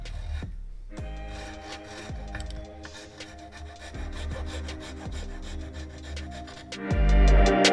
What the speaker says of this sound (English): begin the filing process